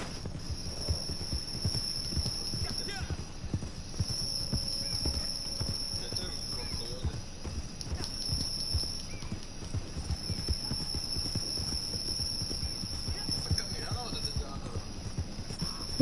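Horse hooves galloping in a video game, a steady rapid clip-clop rhythm running throughout under a constant electronic hum and background game sounds.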